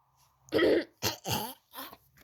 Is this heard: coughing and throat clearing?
yes